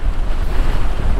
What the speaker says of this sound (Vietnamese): gió đúng lớn luôn á